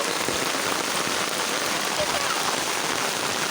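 Steady heavy rain pouring onto surfaces in the countryside, a dense unbroken hiss of drops close by, with faint voices underneath.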